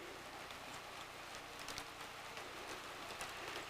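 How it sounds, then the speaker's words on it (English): Steady rain falling in Chiapas, a dense even hiss of drops on surfaces that runs unbroken at moderate loudness. "It's raining now, so I'm going to make a run for my room."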